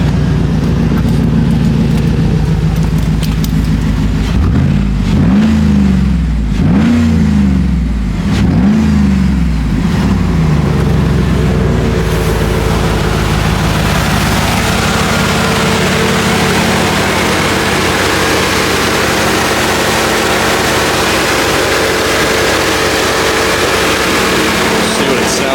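A 2010 Cadillac Escalade engine with a newly fitted cold air intake revs loudly several times in quick succession, then settles into a sustained, roaring drone, close and continuous.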